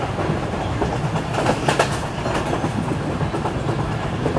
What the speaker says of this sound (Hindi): लेकिन फिर भी ट्रैक साउंड काफ़ी अच्छा है